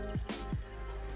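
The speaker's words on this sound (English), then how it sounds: "Just a normal dog water bowl, but if I pour it away," Water poured out of an ordinary dog water bowl at home, heard as a brief splashing gush with a couple of short drips, close and clear with no talk.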